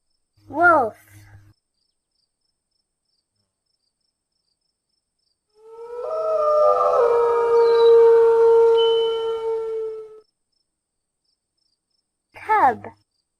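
A wolf gives one long, wavering howl of about four seconds, rising and sustained with layered tones, loud and alone between brief bursts of a child-like voice at the start and end.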